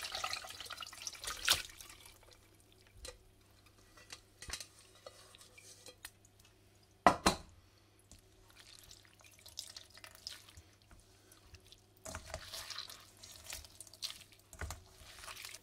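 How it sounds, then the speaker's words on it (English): Ginger tea poured through a strainer into a pan, heard as sporadic splashes, drips and metallic clinks in a quiet room, with short bursts separated by near silence and no talking. "let's just strain off our jus into the pan"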